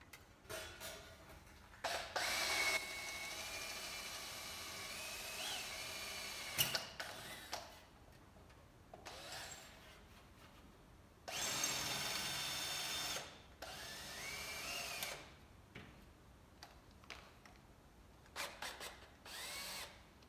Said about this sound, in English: So I'm going to go ahead and drill those.